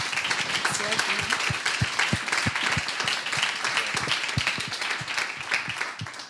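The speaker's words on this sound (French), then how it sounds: "On peut les applaudir." Audience applause breaking out at the close of a panel talk, dense steady clapping for about six seconds with some individual sharp claps standing out.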